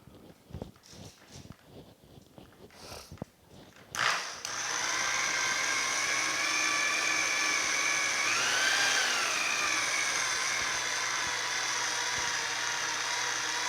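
A polishing wheel buffs small parts from a 1950 Chevy truck, a steady loud whine with a faint pitch rise midway, preceded by a few seconds of scattered clicks and handling noises.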